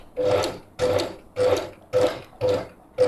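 A sewing machine stitches fabric during a simple clothing alteration, running in short, even bursts about every half second. It is close and loud, with a steady mechanical whir in each burst.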